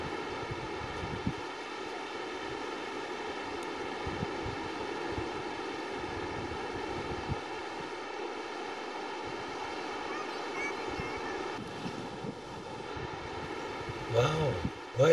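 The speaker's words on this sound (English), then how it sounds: "the sound of the surf is never ending" Ocean surf and wind on a foggy Pacific coast beach with driftwood, a steady faint wash of noise throughout, with a brief louder rustle near the end.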